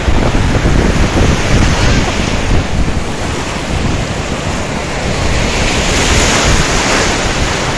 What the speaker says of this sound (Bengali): পেছনে সমুদ্রের ঢেউ,